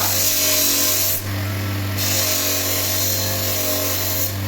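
A knife sharpening machine motor hums steadily with a grinding, rasping scrape of a blade over it that changes briefly partway through, close and loud.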